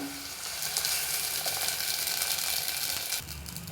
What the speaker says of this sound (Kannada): ಈಗ ಇದನ್ನು ಈಗ ಒಗ್ಗರಣೆಗೆ ಇಟ್ಟಿದ್ಬಲ್ಲ ಈರುಳ್ಳಿ ನೋಡಿ ಇದಕ್ಕೆ ಆ್ಯಡ್ ಮಾಡ್ಕೋಬೇಕು